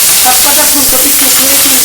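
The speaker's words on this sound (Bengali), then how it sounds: "ফুলকপির টুকরোগুলো আমি উল্টে পাল্টে সুন্দর করে ভেজে নিচ্ছি।" Cauliflower pieces fry in a hot pan with a steady, loud sizzle and faint stirring, the crackle continuous and close throughout.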